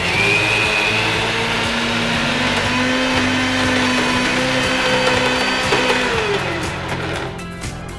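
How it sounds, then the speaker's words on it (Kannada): A kitchen mixer grinder whirs steadily as it grinds soaked urad dal into batter: a loud, continuous motor drone with a slight shift in pitch, easing off toward the end, with no talk. "ಉದ್ದಂತೂ ಮಿಕ್ಸಿ ಆಗಿದೆ."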